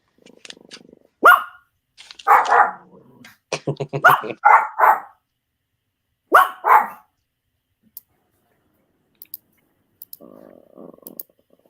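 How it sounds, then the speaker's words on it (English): Dogs barking in South Memphis: several sharp, loud barks come in short bursts with long quiet gaps between them, some clustered in quick doubles, with faint low growling or muffled sound near the end. "See, listen to them South Memphis dog."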